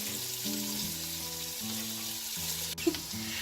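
Chopped vegetables for a vegan chili sizzle steadily in a pan over high heat, a continuous close frying hiss with a brief clink near the end.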